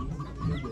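Chickens at a poultry auction in Ankara give a short burst of clucking, close and fairly loud against a busy background.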